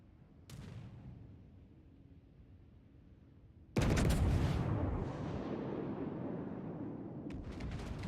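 Heavy warship guns from a battleship in a naval video game fire at an enemy ship: a sudden loud, rumbling blast midway that rolls on with a long decaying roar, preceded by a fainter crack and followed by distant sharp reports.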